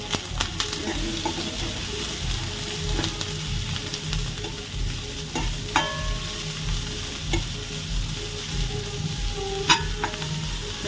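Onions sautéed in a pan for egg masala are stirred over steady, close sizzling, with light scraping clinks of the spoon scattered throughout and no talking.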